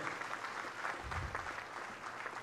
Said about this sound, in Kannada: ಅವ್ರಿಗೊಂದು ಸ್ವಲ್ಪ ಜೋರಾಗಿ ಚಪ್ಪಾಳೆ ತಟ್ಟಿ ಸ್ವಲ್ಪ ಕೇಳಿಸ್ಬೇಕು